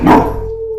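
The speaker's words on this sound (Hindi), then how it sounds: "साथ ही डॉगी भी उस पर भौंका" A single dog gives one loud, close bark that trails off into a short howling tail, with nothing else around it.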